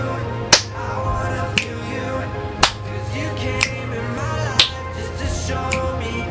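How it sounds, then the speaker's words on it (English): Sharp finger snaps ring out one at a time at uneven intervals, about six in all, over a low steady background tone. "I don't know why I'm snapping and clapping."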